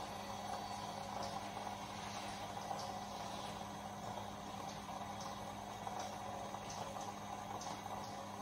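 Water is heated toward 90 degrees with a metal piece inside for a specific heat experiment, giving a soft continuous bubbling hiss with faint ticking pops, steady and quiet throughout.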